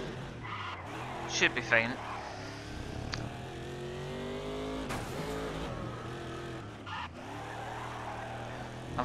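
A race car drifting with the handbrake in the racing game Grid, engine revving steadily with tires squealing and skidding through turns, gear changes and surges heard throughout, while someone talks over it.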